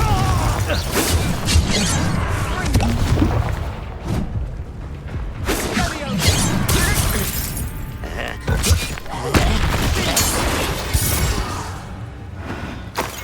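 A Confringo fire-blast spell goes off in a Harry Potter video game duel, loud crashing impacts and shattering debris with thuds and mechanical rattles over a busy battle soundscape, with voices speaking.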